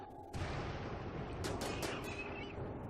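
A colonist in the video game Rimworld shooting at an enemy: a steady low rumble of gunfire under several sharp, bright shot cracks spaced about every quarter second, all at a moderate, slightly distant level.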